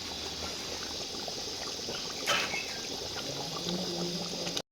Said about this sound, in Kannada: ನೀರು ಹಾಕೋತಾ ಇದ್ದೀವಿ